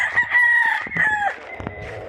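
A rooster crows loudly nearby, a drawn-out cock-a-doodle-doo, followed by a few softer clucks, after a typhoon.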